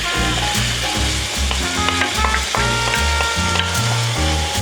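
Minced beef frying in a pan as onion goes in for a beef and potato pie, a steady close sizzle with rhythmic stirring knocks and scrapes, fairly loud, no talking.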